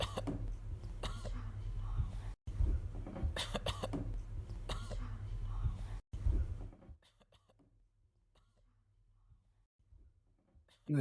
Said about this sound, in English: the animation is actually synced up with the coughing